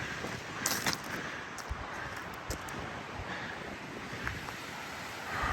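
Strong, steady wind blusters across a microphone on an exposed hike to an old fire lookout in Clearwater County, Alberta, with gusty buffeting and rustle throughout and no talking.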